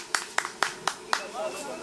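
Five slow, evenly spaced hand claps ring out close by at an avocado harvest in Guarachanillo, Michoacán, applauding the workers; a voice follows right after the last clap.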